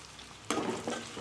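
Dried chillies and curry leaves sautéing with tomato and onion in a pan, a brief burst of sizzling with a stir partway through, close and moderately loud.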